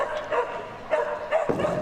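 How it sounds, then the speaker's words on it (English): A small miniature Australian Shepherd barks repeatedly while running an agility course at a large indoor dog show, giving a rapid series of sharp, yappy barks over the crowd's ambient noise. "Nice and vocal. Barks his way around the course."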